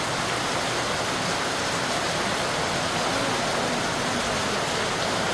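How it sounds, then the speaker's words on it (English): Steady, dense rain pours onto a house roof in a country area, a constant loud hiss with no pauses and no voices. "I hear rain from house top boy"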